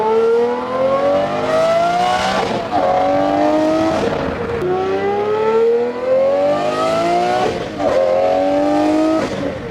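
A car downshifting as it comes up to a traffic light: loud, aggressive revs climb and then drop back at each of three or four successive gear changes, close and alone.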